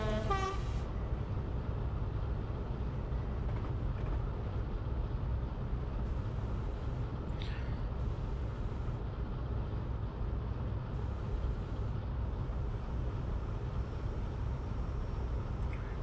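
A Class 52 locomotive runs on the Riviera Modern route in the Train Simulator game. A steady, dense rail rumble continues throughout, with short horn-like tones near the start.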